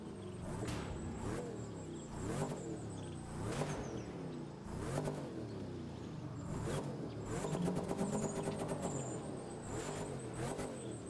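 A Chevy Camaro Z28 engine in the racing game The Crew 2 revs repeatedly in bursts, rising and falling, loud and close with no talking.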